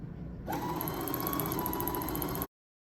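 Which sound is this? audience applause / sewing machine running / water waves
sewing machine running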